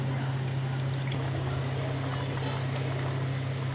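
Water poured into a frying pan of hot oil with chili and salt while cooking Lahori chickpeas, giving a steady, even sizzling hiss over a low hum that runs unbroken throughout.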